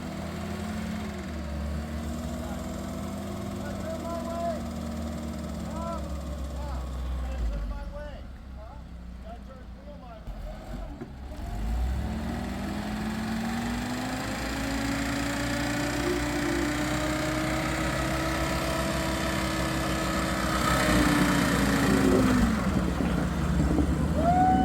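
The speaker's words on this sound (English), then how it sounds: "I think you can hear it starting to go right here when I get the high revs going" An antique Jeep engine strains at high revs while climbing a rocky canyon trail, its steady drone starting to falter, with talk heard over it throughout.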